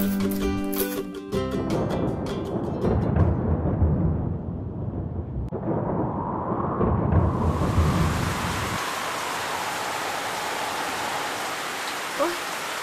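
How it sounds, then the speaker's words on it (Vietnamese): Heavy cartoon-style rain pours in a steady, dense hiss for the whole stretch, with a deep thunder rumble near the start before the downpour settles into an even wash. "Ôi, trời mưa to quá."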